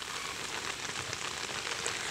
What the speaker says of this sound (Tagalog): medyo tumigil o humina ang ulan